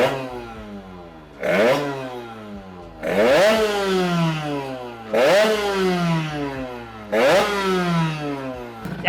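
A Sherco motorcycle engine fitted with a rotor warms up before a dyno run, revving hard four times in evenly spaced bursts, each rising sharply and falling back to a rough idle between them.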